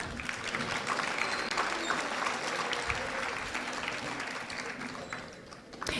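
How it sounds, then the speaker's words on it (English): Sustained audience applause fills a hall at a junior high school academic awards program, dense and even clapping that carries on for several seconds before briefly thinning near the end. "Let's give these kids a round of applause."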